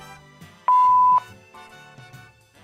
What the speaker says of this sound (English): Whatever, just simply wait for the beep.